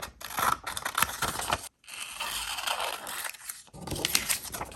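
Scissors cut out a paper handmade stamp for a junk journal, producing close, rasping snips and crinkly paper scraping in bursts separated by brief pauses, with no voices.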